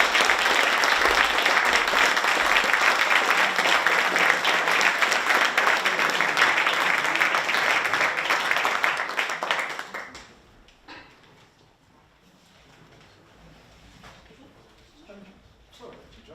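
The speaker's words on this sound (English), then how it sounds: "And one more round of applause to the company" A school audience at a Gilbert and Sullivan evening gives a theatre company a loud, sustained round of applause that runs for about ten seconds, then drops off abruptly to quiet room sound.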